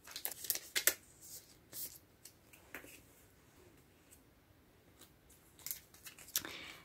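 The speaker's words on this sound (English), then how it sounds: "I'm also going to be sleeving all of the cards right away." Plastic rustling and crinkling as photocards slide into protective plastic sleeves, with a few sharp crisp bursts near the start and again near the end and quieter handling between.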